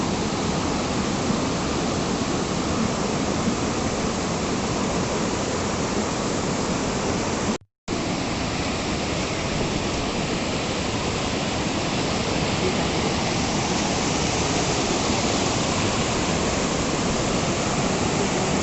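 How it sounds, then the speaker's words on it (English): Kuske Waterfall in Canacona, South Goa, India, splashes with a loud, constant broadband roar of falling water, unbroken apart from a brief dropout midway. "So this is a place also you can sit and enjoy this waterfall, enjoy that splash."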